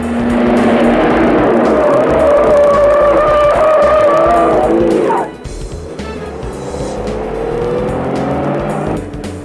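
A 1962-63 Chevy II and a rival compact driving past at 45 mph, a loud tire and engine rush with rising whine that sweeps by near the midpoint, then drops to a quieter, receding hum.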